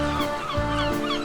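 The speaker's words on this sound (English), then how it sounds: "3 scavenging seagulls who set upon it and devoured it with great gusto" Animated storybook sound effect of seagulls squawking, a single loud, harsh honking call lasting about a second, close and alone.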